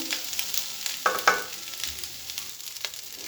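Pasta being stirred in a pan with turmeric and a spice mix, giving a soft continuous sizzle with a couple of sharper scraping strokes, close and moderately quiet.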